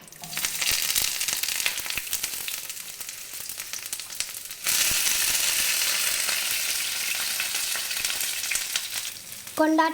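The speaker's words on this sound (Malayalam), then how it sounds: "കടുക് പൊട്ടി കഴിഞ്ഞിട്ടുണ്ട് ഇനി നമുക്ക് കുഞ്ഞുള്ളിയും വേപ്പിലയും ആഡ് ചെയ്യാം" Steady, close frying sizzle of mustard seeds in oil with crackling, briefly interrupted by a louder burst as shallots and curry leaves drop into the hot oil.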